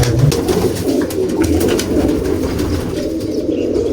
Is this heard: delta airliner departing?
no